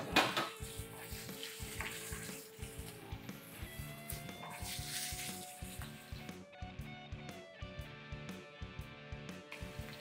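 Beef and other ingredients sauté in a pan with a steady sizzle, while a utensil stirs and scrapes in regular rhythmic clinks throughout at close range.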